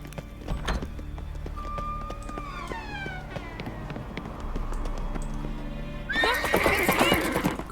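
A horse whinnies loudly in The Witcher 3 while hooves clip-clop and thud along steadily beneath, followed by another burst of neighing and commotion near the end.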